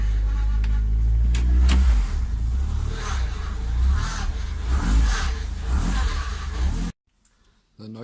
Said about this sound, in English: Pump's a little noisy.